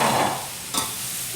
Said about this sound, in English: Hubby's going to put the sausage down. So they can go ahead and get nice and grilled.